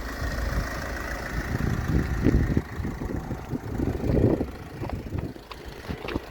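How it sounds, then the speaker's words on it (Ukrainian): Mercedes-Benz Vito 111 with the OM646 diesel engine idling, a steady low rumble with a rough, uneven clatter, heard up close and alone. "люблю, як ці двигуни працюють. 646 дуже гарно працює."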